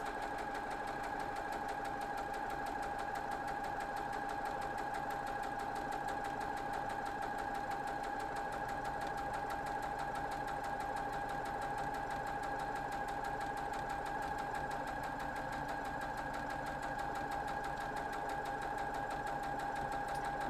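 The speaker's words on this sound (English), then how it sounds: "we are going to just sew right down through, nice and smooth." A sewing machine runs steadily while stitching a quilt block, its motor humming in a constant whir with rapid needle clatter, close and even throughout with no voices.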